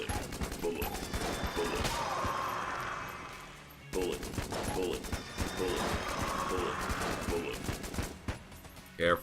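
Dense, continuous bullet fire and crackling impacts from the video game Enter the Gungeon, loud and steady throughout with rhythmic shots layered over a constant barrage.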